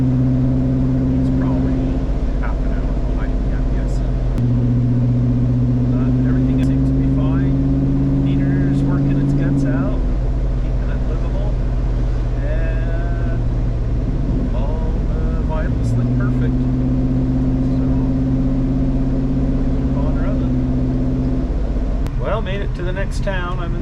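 A pickup truck with a suspect transmission driving along a highway: a loud, steady engine and road drone inside the cab, with humming tones that shift in pitch as the speed changes, continuous throughout.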